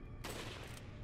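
A single sharp sniper rifle shot in Resident Evil 4 on the Wii cracks loudly and close, bursting broadband over low background hum before a quick fade.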